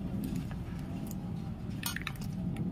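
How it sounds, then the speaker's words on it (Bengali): An egg cracked open for an omelette, a few light clicks and taps of shell against a bowl or glass heard close up over a steady low background rumble. "ডিমটাকে ফাটিয়ে নিচ্ছে, দেখে দাও"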